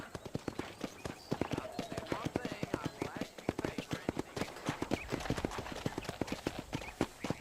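Steady clip-clop of horse hooves at a brisk, rhythmic gait in the video game Red Dead Redemption, close and fairly loud, continuing without pause throughout.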